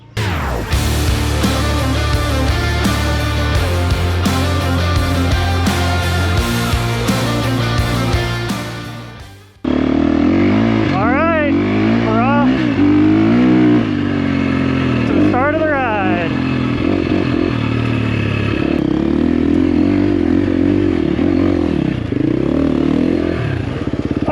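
A motorcycle rides over a rocky trail above 7,000 feet, its engine revving and rising and falling in pitch over clattering stones, loud and close; music plays beforehand and a voice talks over the ride.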